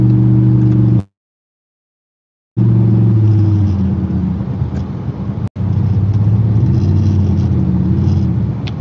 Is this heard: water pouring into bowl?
no